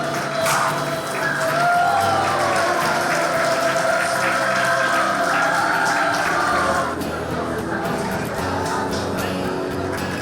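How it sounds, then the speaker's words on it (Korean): Applause and cheering from wedding guests at a ceremony, a loud, steady crowd clapping that holds for about seven seconds and then thins out, with a little murmuring underneath. "큰 박수 부탁드리겠습니다."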